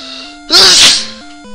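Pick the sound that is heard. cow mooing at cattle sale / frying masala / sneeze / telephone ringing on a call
sneeze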